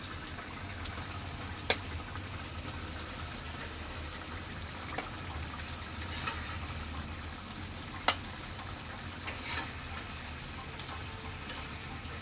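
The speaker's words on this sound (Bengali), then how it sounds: "মাছ কষানো হয়েছে।" Pabda fish sautéing in a pan sizzles softly and steadily, with a few sharp spatters and clinks from stirring, and no voices.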